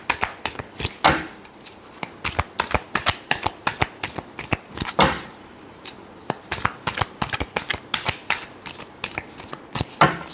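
Tarot cards shuffled by hand in a steady run of crisp riffling flicks and snaps, close and clear, with no voice over them.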